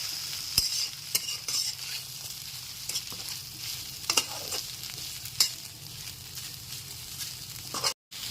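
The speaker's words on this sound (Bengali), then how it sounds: "জলটা দিয়ে দেওয়ার পর খুব ভালো মতো মিশিয়ে নিতে হবে" Vermicelli being stirred in a pan after water is added, a soft continuous hiss with scattered light scrapes and taps of a utensil, fairly quiet and close, cutting out briefly near the end; no one speaks.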